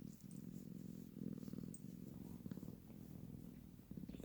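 A cat purrs steadily while being touched, a soft, low, continuous rumble heard up close in a quiet room.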